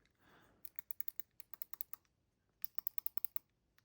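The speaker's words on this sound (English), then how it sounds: "we've got the clicky buttons" Clicky buttons on a mechanical pig puzzle cube are pressed in two quick bursts of about a dozen crisp, close, faint clicks, separated by a short pause.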